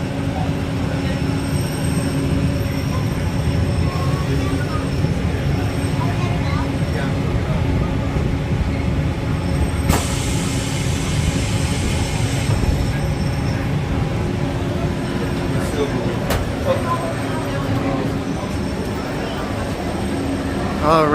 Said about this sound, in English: that was the Disneyland monorail